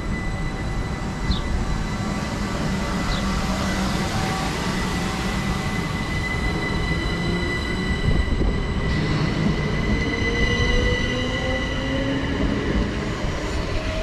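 A passenger train, the 08:59 service to London Victoria, rumbles steadily out of a station on the West Coastway line, wheels droning and a faint squeal rising, with no voices.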